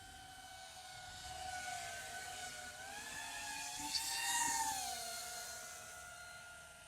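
A 5-inch FPV drone carrying a 6S 5000mAh Li-ion battery flies at a distance, its steady high-pitched motor whine rising and falling in pitch as it manoeuvres, loudest near the middle of the flight.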